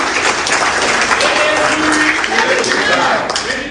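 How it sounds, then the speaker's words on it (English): A crowd at AAC party presidential primaries in Abuja claps in dense, sustained applause, loud and even, with voices mixed in beneath the clapping. "Please, can I have an applause for him?"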